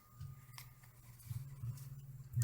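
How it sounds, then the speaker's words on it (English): Scissors snip embroidery stabilizer away from the fabric of an in-the-hoop machine-embroidered dollhouse bag, giving a few faint, soft cuts over a low steady hum. "very carefully cut that stabilizer away"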